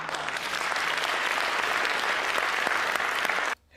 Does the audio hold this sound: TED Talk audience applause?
yes